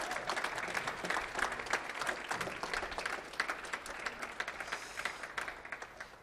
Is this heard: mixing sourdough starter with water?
no